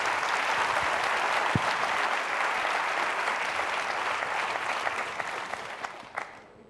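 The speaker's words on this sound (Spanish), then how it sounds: "Este aplauso que ha nacido espontáneamente de una persona del flanco derecho que ha contagiado al resto de la sala" Spontaneous applause from a conference audience at an international excellence congress, a dense, sustained clapping from the whole room that holds steady and then thins and fades toward the end.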